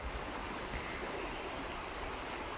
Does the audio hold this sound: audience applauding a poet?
no